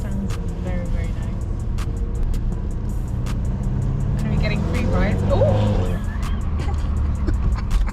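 A new car drives along with a steady low road and engine rumble, continuous and close from inside the cabin, while passengers talk and exclaim over it.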